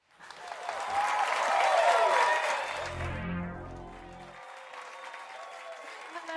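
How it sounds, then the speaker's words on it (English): Applause and cheering from a livestream audience swell, rising to a peak then fading, with a rumbling sweep and some voices mixed in near the end. "Round of applause from the stream."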